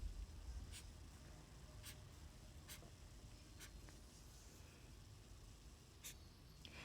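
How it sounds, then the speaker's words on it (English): A green marker scratches needles onto paper branches in a children's art lesson, a series of faint, quick strokes spaced irregularly against a quiet, hissy room. "So go ahead and draw the needles on your branches."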